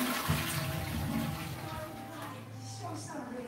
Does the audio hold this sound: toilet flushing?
yes